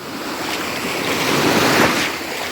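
Sea waves wash onto an Odesa beach on the Black Sea, a steady broadband surf roar that swells toward the middle and eases again, with some wind buffeting the microphone and no voices.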